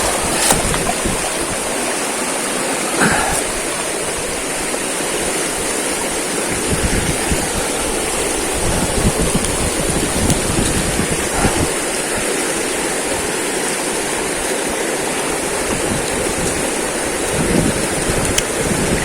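A strong river current rushes in a steady, loud roar along a hiking route toward a waterfall in General Nakar, Quezon, unbroken for the whole stretch.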